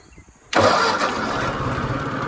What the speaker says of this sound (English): I would show how this tractor starts unbelievably well.